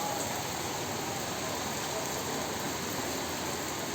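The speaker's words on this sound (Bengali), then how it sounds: "মুষলধারে বৃষ্টি হচ্ছে বাসাইলে।" Heavy evening rain pours down in Basail, a steady, dense wash of noise that holds at an even level from start to finish with no breaks.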